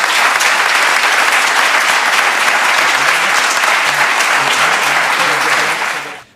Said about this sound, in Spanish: pido un aplauso aquí por Rodrigo y el jugador del Atleti